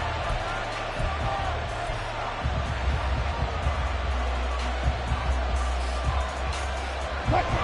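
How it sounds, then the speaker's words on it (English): Stadium crowd in an American football video game, a continuous loud roar with some thumps, rising under a commentator's voice. "This crowd turning up the decibel level."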